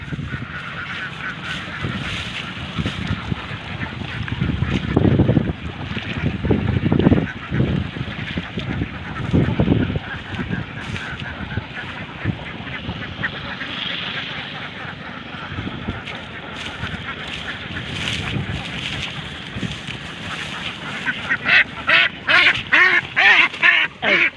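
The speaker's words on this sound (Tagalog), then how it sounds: "yan po yung mga alagang itik natin" A flock of laying ducks (itik) on a duck farm, some reportedly poisoned, quack and honk loudly and repeatedly, nearby and overlapping. A voice is heard now and then, and a burst of sharper quacks comes near the end.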